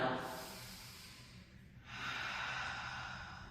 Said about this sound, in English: taking a flowing breath in and out